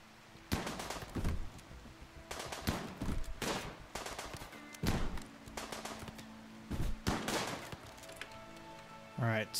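Scattered bursts of gunfire as colonists fight off an invasion in the colony-building game RimWorld, with irregular sharp cracks and short volleys separated by quieter gaps.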